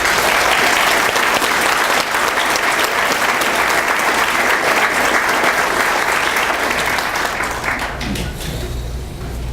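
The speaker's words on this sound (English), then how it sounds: "if we could give a round of applause and thank the Norwood Hotel for hosting us" A debate audience at the Norwood Hotel gives a loud, sustained round of applause, dense clapping from a large crowd that gradually thins and fades toward the end.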